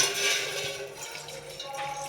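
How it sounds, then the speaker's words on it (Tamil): Water splashes and rushes into an empty cooking pot for making tea or coffee, a steady close pour that fades slightly toward the end. "இதில் தண்ணி ஊற்ற போகிறோம்."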